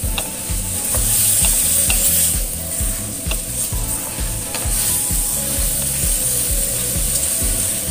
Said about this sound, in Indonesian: Ditumis terlebih dahulu ya, supaya dagingnya itu rasanya tidak hambar.